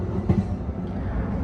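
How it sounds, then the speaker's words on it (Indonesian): Menoreh passenger train arriving at Pekalongan station at night, a steady low rumble of rolling wheels and carriages with a brief clank near the start. "kereta api Menoreh tiba di stasiun Pekalongan."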